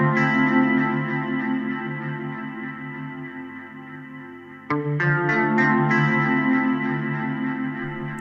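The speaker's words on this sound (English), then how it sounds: "Let's send the chorus through the reverb and see what that does." A sustained Mellotron M4000D synth chord on iPad, sent through chorus into reverb, washed in shimmer, shifting to a new bright chord partway through, with lingering echoing tails.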